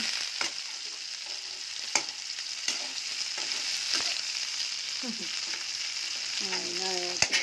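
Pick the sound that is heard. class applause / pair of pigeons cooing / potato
potato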